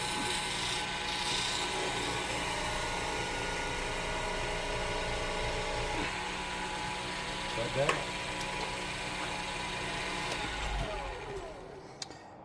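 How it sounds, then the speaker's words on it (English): Wire held against a turning wooden handle on a wood lathe friction-burns a groove, a continuous rasping, rubbing whine over the steady lathe drone, sustained throughout with a couple of brief louder scrapes. "Make a groove for the wire to burn into. And we just friction burn it."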